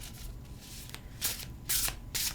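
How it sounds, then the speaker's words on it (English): A hefty Circle of Doors tarot deck gets a vertical shuffle up close. Soft, rustling card slides come in three brisk bursts over a quiet background. "So a vertical shuffle is a must."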